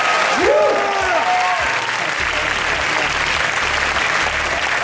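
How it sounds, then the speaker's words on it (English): Crowd applause at the world premiere of the horror film Insidious in Toronto, a dense, sustained wash of clapping throughout, with an announcer's voice over it at the start and a low hum beneath. "Give me a round of applause for the director, James Wan."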